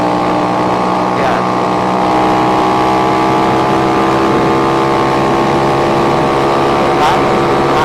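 An Astrea 190 cc motorcycle engine works hard on a steep, muddy uphill road, droning loud and continuous with uneven throttle, while a rider talks over it.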